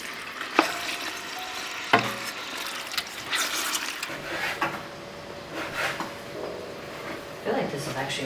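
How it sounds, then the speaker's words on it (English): Bear fat rendering down into tallow in a pot gives a soft sizzle, with stirring scrapes and sharp clanks of a utensil against the pot, while people talk nearby. "We're gonna render the fat down, strain it, and have the best cooking oil."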